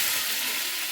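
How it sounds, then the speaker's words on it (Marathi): Curry leaves sizzle in hot oil in a pan for a dudhi bhaji, a steady loud crackling hiss with no talking. "कढीपत्ता टाकूया"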